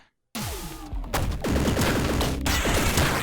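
Triple gun firing in the pixel-art game Downwell: after a brief silence, a rapid barrage of punchy retro gunshots and crashing impacts, loud and continuous, with descending chiptune tones layered through.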